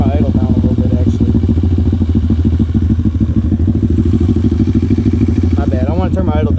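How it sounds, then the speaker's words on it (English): A loud motorcycle engine idles with a steady rumbling putter right after being started, close and continuous, with faint clatter over the top. "hit the start button. That's a loud bike, ladies and gentlemen"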